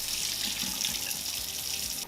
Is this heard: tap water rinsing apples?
yes